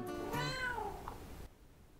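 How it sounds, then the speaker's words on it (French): A cat gives one drawn-out meow, close and clear, rising then sliding down before cutting to quiet, with no other sounds. "On peut pas contrôler un chat."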